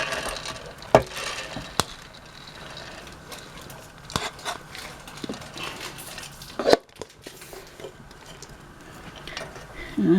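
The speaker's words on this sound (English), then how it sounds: "I'm going to put about half of the rice in the pan." Cold rice is stirred and pressed around a frying pan with a utensil, soft scraping and clinks with a few sharper knocks against the pan.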